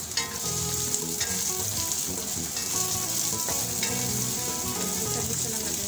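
Carrots and garlic stir-fry in a pan for a cabbage-and-carrot dish, giving a loud, continuous sizzle with scattered stirring clinks and scrapes close by.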